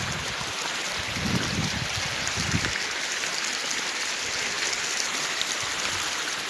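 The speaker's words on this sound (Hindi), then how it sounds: "ये देखिए किस तरह पानी खूबसूरत अंदाज में बह रहा है।" A mountain stream flows with a steady, full rushing wash of water close by, a dense hiss throughout with a few low splashing gurgles early on.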